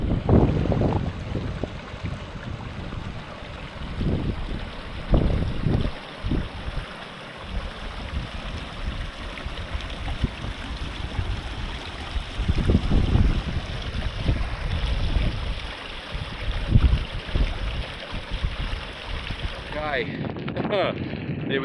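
Strong wind buffets the microphone while hiking on Dartmoor in awful weather, loud gusting roar and rumbling thumps throughout, with someone talking under the wind.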